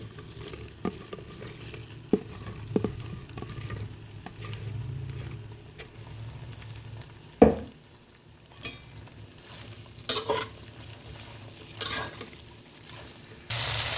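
Okra pieces frying in hot oil over a high flame, a soft steady sizzle with occasional stirring clinks and scrapes of a spoon against the pan, and one sharp louder scrape midway.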